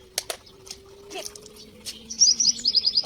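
Birds chirp outdoors near swimming Labrador dogs, with sharp scattered calls early on and a quick run of bright tweets toward the end, fairly close and moderately loud over a low background hum.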